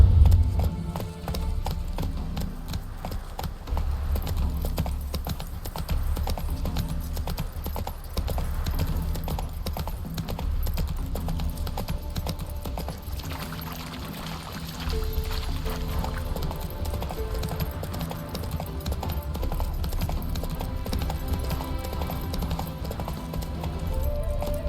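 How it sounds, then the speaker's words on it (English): Horse hooves clip-clop steadily in The Witcher 3 as the horse trots along a game path, the rhythmic footfalls sitting under a continuous bed of game music and ambience throughout. "Spooking my horse."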